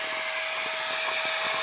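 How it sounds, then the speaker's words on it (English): A pump inflating a camping sleeping mat at a summit camp in the Mourne Mountains, a steady airy whir with a faint thin whine, continuous and close, no voices. "it doesn't take long at all to blow the mat up."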